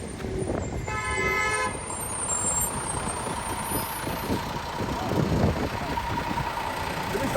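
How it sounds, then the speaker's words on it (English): A car horn gives one sustained honk lasting under a second, followed by continuous rumbling street traffic with engines and passing vehicles. "blowing their horns"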